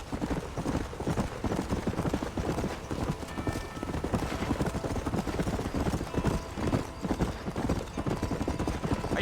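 Horse hooves clip-clopping in Red Dead Redemption, a Wild West video game: a brisk, continuous rhythmic patter of hoofbeats at a trot, close and steady, with faint background game sounds and no clear speech.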